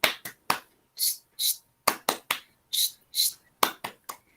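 A patterned burst of sharp hand claps in a classroom rhythm, a 'tepuk diam' quiet-down clap, about a dozen crisp claps grouped in quick sets, fairly close and loud, no talking.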